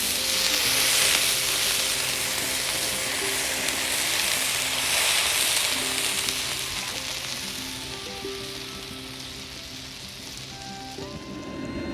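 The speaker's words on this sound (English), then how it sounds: "We got some boiling going." A pot of green chile stew bubbles and sizzles over high heat, a dense steady hiss of boiling liquid that softens slightly over time, with faint music underneath.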